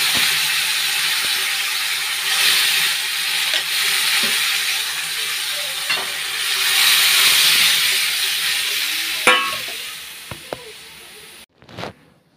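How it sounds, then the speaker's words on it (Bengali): Boiled masoor dal tipped into hot oil with bay leaf, dried chilli and onion, giving a loud steady sizzle with occasional stirring clinks, ending in a brief clatter. "ডালটা এখন তেলে দেবো।"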